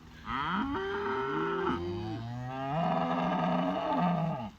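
Heifers and bulls on a farm give long, loud, drawn-out moos close by, one low bellow running into another, with no talking.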